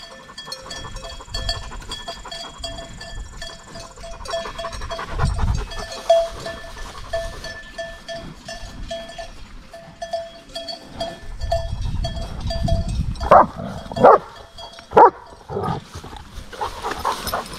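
A German Shepherd near cows on a farm gives several sharp barks toward the end, preceded by breathy panting and rustling outdoors, with faint farm ambience throughout and no talk.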